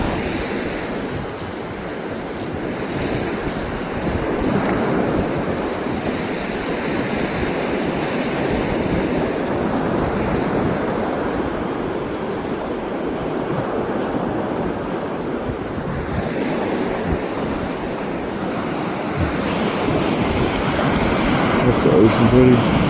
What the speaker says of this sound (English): Sarge, first time at the ocean ever